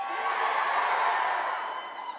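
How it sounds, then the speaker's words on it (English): A loud, sustained roar of cheers and whoops from a PAX West convention panel audience, steady throughout and tapering slightly at the end. "everyone just cheers all the time"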